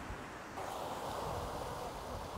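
Stormy sea rolling onto a pebble and sand beach at a resort in Belek, a soft continuous roar of waves with wind hiss, fairly faint and steady, without any speech.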